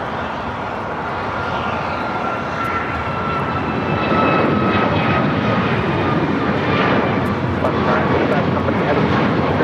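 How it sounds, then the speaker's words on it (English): An Alaska Airlines Boeing 737 MAX 9 taking off at LAX, its jet engines a loud, sustained roar that builds slightly and stays strong throughout. "This is Alaska Airlines 935 taking off to Fort Lauderdale on the MAX 9."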